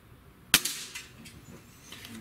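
A Diana AM03 Stealth N-TEC .22 caliber breakbarrel air rifle fires one sharp, loud crack close by on an outdoor range, followed by a brief metallic ring and quiet ambient rustle.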